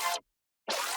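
Vocoded synth tone in a colour bass sound-design chain: two bright, airy bursts separated by a clean silent gap, each cutting in and out sharply with no talking.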